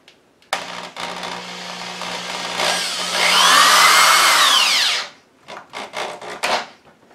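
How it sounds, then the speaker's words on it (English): A power drill drives screws into a wooden table without pre-drilling, revving in a sustained whine that rises in pitch and strains as the screw bites, then stops, followed by short bursts of lighter drilling. "I'm just going to take my time drilling it in."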